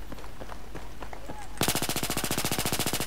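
Rapid automatic gunfire from a weapon in Battlefield 3, a few scattered shots and clicks, then a loud, steady rattling burst of evenly spaced close shots running to the end.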